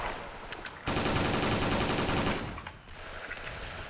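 Rapid bursts of G36C gunfire in the shooter game Special Force, loud and continuous through the middle, with quieter shooting and action noise before and after.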